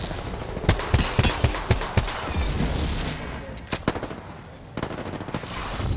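Rapid gunfire in the video game Apex Legends, with quick bursts of sharp shots early on, a pause, then more clustered bursts, while excited player voices sound over the action.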